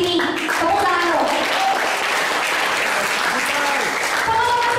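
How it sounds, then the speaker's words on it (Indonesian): An audience at a motivational talk breaks into sustained, even applause, dense clapping from many hands filling the whole stretch at a steady level with a few voices mixed in. "Teman-teman semua yang ada di sini, tepuk tangan dong."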